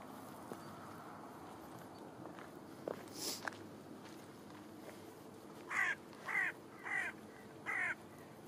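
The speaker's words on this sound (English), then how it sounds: "Crow." A crow caws four times in a steady series, fairly loud and nearby, near the end of an outdoor scene with footsteps and faint rustling earlier on.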